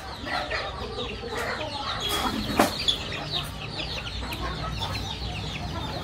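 Domestic desi country chickens clucking in a poultry shed during cold weather, soft repeated calls close by with a few sharper squawks near the middle, over a steady farmyard background with no talk.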